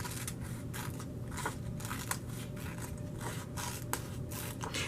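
Scissors snip through several stacked sheets of paper for a handmade paper rosette, giving crisp, scraping cuts that repeat at an uneven pace, close and fairly quiet against a steady background hiss.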